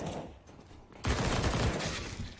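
Rapid SMG fire rattles out in a Counter-Strike match on the Overpass map, a dense burst of shots that starts suddenly after a quieter stretch of faint in-game ambience and carries on fairly loud to the end.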